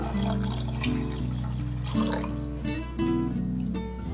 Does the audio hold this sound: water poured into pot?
yes